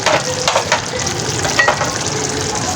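Cabbage and bell pepper stirred and frying in a pan for Chinese-style biryani, a steady loud sizzle with scraping stir strokes throughout.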